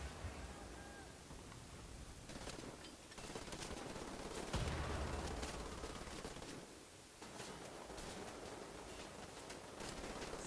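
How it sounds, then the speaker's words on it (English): Enemy gunfire in the Wolfenstein video game, with continuous crackling shots and bursts under a loud, dense battle mix lasting the whole stretch. "They're shooting at me with the guns."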